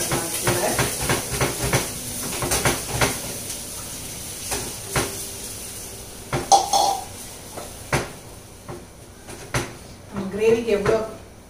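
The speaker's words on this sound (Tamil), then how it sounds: "மசாலா நல்லா வதங்கிச்சு. கொஞ்சம் தேவையான அளவு தண்ணியும் சேர்த்துக்கலாம்." Water is poured into sizzling masala in a pan for tomato kurma gravy, bringing sharp bursts of hiss and steam amid utensil clatters and pan knocks, with a louder sizzling flare near the end in a home kitchen.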